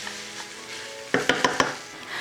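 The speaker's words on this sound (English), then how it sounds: "I'm going to add one chopped onion to it so it'll saute" Chopped onion sizzles with ground beef in a pan, a soft steady frying hiss broken by four quick, clear scrapes or taps of a utensil near the middle, with no talking.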